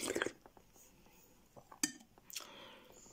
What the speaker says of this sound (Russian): Сейчас посуду там чуть-чуть вымою.